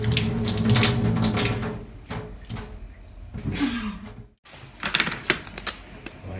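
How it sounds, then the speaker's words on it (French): A kitchen tap runs over carrots being washed in a sink, splashing and gurgling close up, cutting off briefly then resuming with clattering handling sounds. "je vais laver les carottes"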